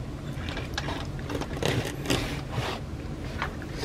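A sewing machine backstitches a seam on a fabric snuffle mat dog toy, making a quiet, quick mechanical whirring and ticking of the needle in short uneven bursts.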